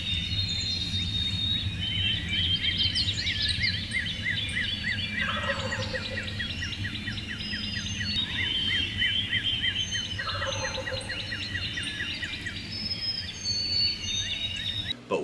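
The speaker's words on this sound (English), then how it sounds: "I think we had probably 9 birds gobbling on the roofs" Many wild turkeys gobble from their roost at dawn, repeated rattling gobbles overlapping near and far over a steady bed of other birdsong.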